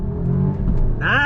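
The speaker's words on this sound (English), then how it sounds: "here we go on throttle from a dead stop again" A 2022 Alfa Romeo Giulia sport sedan pulls away from a dead stop on throttle: a steady, close engine drone gives way to a clear rise in revs near the end.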